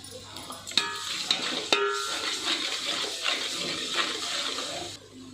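Sliced onion frying in a pan as ginger-garlic paste goes in, for chicken dum biryani: a steady sizzle with a few sharp clatters and stirring knocks near the start, fairly close and with no talk.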